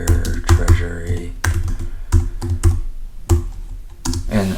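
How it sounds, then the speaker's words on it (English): Typing a web search on a computer keyboard, with a quick run of key clicks in uneven bursts heard close up over faint background talk. "if you just go into Google and you type in"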